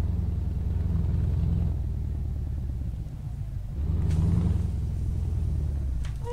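A heavy truck towing a GLS trailer in Euro Truck Simulator 2 revs up with a low engine rumble that swells, dips briefly midway, then builds again as it accelerates.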